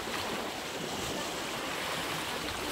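Sea waves surge and wash steadily along a coastal shoreline, a dense continuous roar of churning water with some wind, close and fairly loud with no talking.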